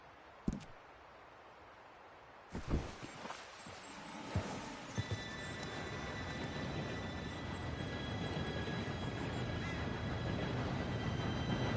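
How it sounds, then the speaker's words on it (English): A train in Red Dead Redemption 2 rolls in after a few sharp knocks, its steady rumble and rattle swelling louder and nearer over several seconds with faint whistling tones above. "Train should be here any minute now."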